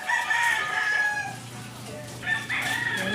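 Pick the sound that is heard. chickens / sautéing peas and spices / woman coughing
chickens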